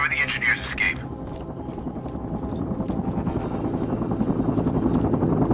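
A helicopter in the shooter game Sniper Ghost Warrior 3 keeps up a steady rotor thrum with rhythmic chopping under game dialogue and voices, growing slightly louder.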